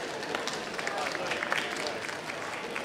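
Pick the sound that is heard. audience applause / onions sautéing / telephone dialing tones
audience applause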